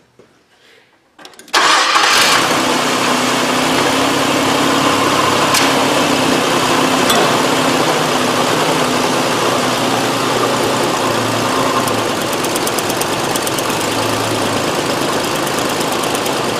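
A Nissan Frontier engine starts up and then runs rough with a cylinder cut out, a steady loud mechanical drone continuing without pause after the start and holding nearly unchanged to the end.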